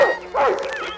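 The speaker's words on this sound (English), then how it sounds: "spit a grape seed at Barney, the family dog. Barney jumped up and barked at the mischievous creature" Barney, the family dog in a Gremlins read-along, gives short close yips and whining barks, two or three quick high vocal bursts in about a second.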